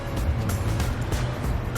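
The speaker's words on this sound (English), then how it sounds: "Lots of loud cars." Loud cars pass steadily along a Los Angeles street beside a restaurant, a continuous roar of engines and tire noise filling the scene.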